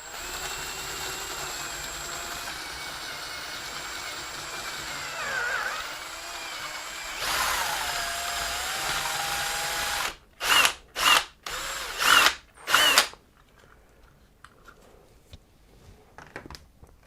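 A power drill cuts a hole in the plastic case of a Boifun action camera, a long steady whine that changes pitch, then four short, loud bursts before falling quiet.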